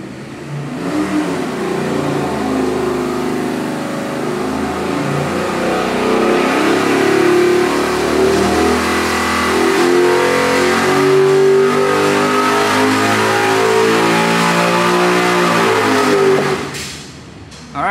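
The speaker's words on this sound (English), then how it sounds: "here's our first pull with E85 in the motor" A 12.0:1-compression 441-cubic-inch LS3 V8 running on E85 makes a full pull on a dyno, its loud engine note climbing steadily in pitch for about fifteen seconds before cutting off abruptly.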